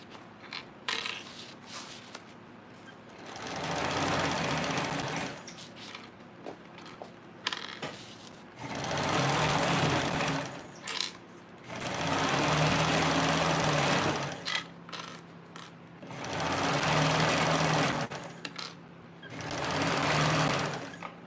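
A sewing machine runs in four steady bursts of stitching along a 3/8-inch seam allowance, each run a few seconds long with brief quiet pauses between, loud and close with a whirring motor hum.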